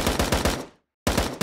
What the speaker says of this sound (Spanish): O sea, suena fuerte, ¿no? Los disparos soy yo.